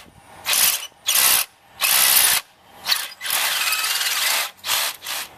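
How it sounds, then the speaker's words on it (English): Metal tools working on a fence section, wire cutters and an adjustable wrench, giving bursts of loud scraping, rasping mechanical noise in uneven pulses separated by short pauses, close and without talk. "So I'll start disassembling this with my tools, wire cutters, and my adjustable wrench"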